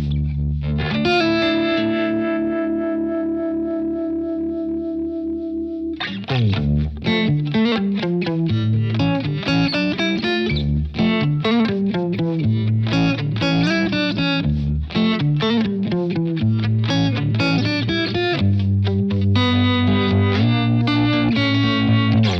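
Electric guitar played through a Fender Mustang Micro headphone amplifier, first a sustained chord, then a busy run of picked notes with distortion and chorus-like shimmer, loud and continuous with no talking.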